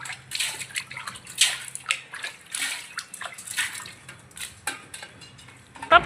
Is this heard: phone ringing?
no